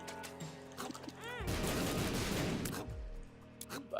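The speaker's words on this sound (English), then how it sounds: "the Anarchist Cookbook basically just cooks lots of bombs and drops them everywhere" Bombs going off in The Binding of Isaac: Rebirth, dropped by the Anarchist Cookbook item: a loud, rumbling burst of blasts that swells and fades over a couple of seconds, over quieter game sounds.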